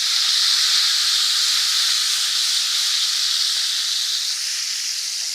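Steam hisses loudly and steadily from a pot of amla as the lid comes off, a bright continuous rush that holds almost unchanged for several seconds with no voices.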